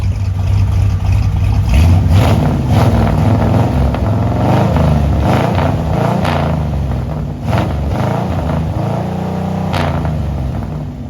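A Ford Y-block V8 with headers and a freshly installed camshaft idles steadily in the car, a loud, close, lumpy exhaust rumble running throughout with no talking.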